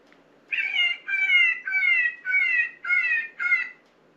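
A jackrabbit distress call played from a Johnny Stewart Executioner electronic predator caller: six shrill, wavering squalls in a steady series of repeated cries, loud and close, with quiet between.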